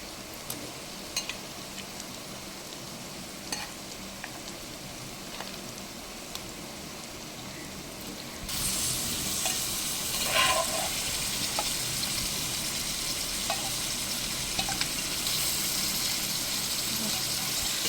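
Washed chicken pieces dropped into a hot pan and stirred, giving a sudden rise of broad sizzling and scraping halfway through, with someone speaking over the cooking.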